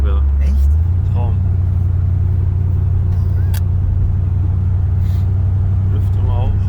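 A Corvette C3 drives along with a steady, loud low engine drone and rumble filling the whole stretch, heard from inside the car, with a few faint incidental noises on top.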